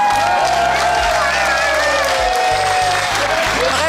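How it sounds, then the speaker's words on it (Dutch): Applause and cheering from a crowd for a band at a Dutch village festival finale, loud and steady throughout, with sustained low musical tones playing underneath. "Nog even een applaus van de band."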